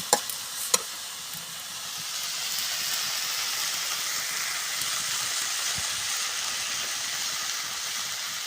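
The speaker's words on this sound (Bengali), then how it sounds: "মাটির চুলাটা বেশ খুব জ্বলছে" Vegetables fry in a pan over a wood fire in a village clay stove, giving a steady close sizzle and crackle throughout, opened by a couple of sharp clinks near the start.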